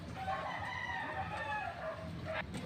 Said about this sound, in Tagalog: may mga pumupunta na manok dito